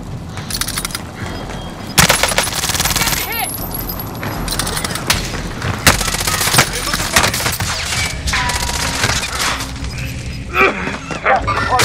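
Heavy gunfire in a battle-royale style shooter, with repeated loud, close shots and bursts alongside shattering and booming impacts, under constant game noise and occasional voice chatter.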